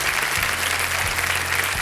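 Steady applause from a studio audience welcoming a group of schoolchildren from Turtuk, dense clapping held at an even level throughout with no speech over it.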